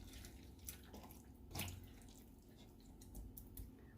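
A kitchen tap runs steadily into a sink during handwashing, a faint continuous splashing hiss with small drips and brief shifts where the hands move under the stream.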